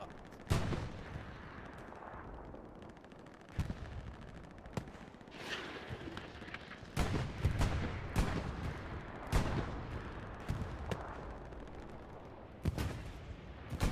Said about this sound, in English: That sounds like a bomber run.